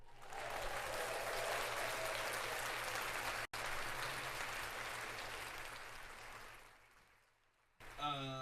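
Clapping on a sports talk show, a dense, sustained round with a brief cut partway through, fading gradually before a voice starts talking at the very end.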